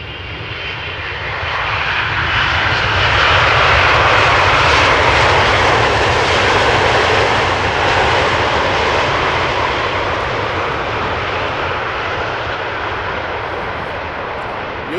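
A Boeing 747 jetliner at Amsterdam Schiphol Airport roars past, a loud, broad, continuous engine rush that swells and slowly fades over about fifteen seconds, heard outdoors without talking.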